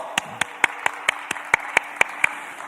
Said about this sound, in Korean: 다시 한번 박수 한번 부탁드릴게요.